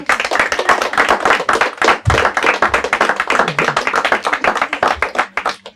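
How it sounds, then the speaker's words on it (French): An audience applauds a school quiz team, a close, loud burst of rapid, distinct handclaps in a dense, lively rhythm that keeps going without a break. "On les applaudit bien fort."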